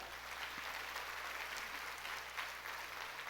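Worshippers in a church break into sustained clapping during a sermon, a continuous broadband patter of many hands holding steady from start to finish, with no speech above it.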